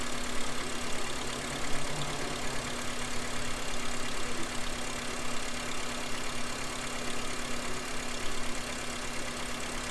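A car engine idles steadily while the regulator is tested, giving a low, constant hum with a faint continuous tone and no change in pace, heard fairly quietly and without talk.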